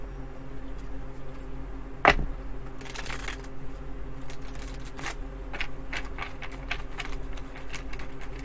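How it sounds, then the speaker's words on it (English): Tarot cards being shuffled by hand up close: scattered soft riffles and flicks over a low steady hum, with one sharp sweeping sound early on. "If I can get these darn cards to shuffle."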